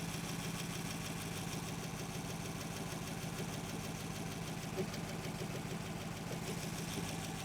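An old Buick engine idles steadily with a low, even rumble and faint mechanical knocking, running alone at constant loudness.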